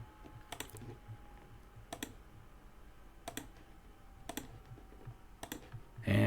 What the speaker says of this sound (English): We're going to click on here. We're going to click this long, and click these.